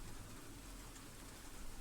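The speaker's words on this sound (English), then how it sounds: "It's raining." Steady rain falls in the video game Cemetery Mary, a soft, even hiss of drops that runs without a break for the whole short stretch, faint and with no talking over it.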